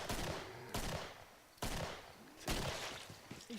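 Gunfire rings out in the shooter game Killing Floor, four heavy, loud blasts spaced roughly a second apart, each with a long ringing decay, close and dominant with no talking.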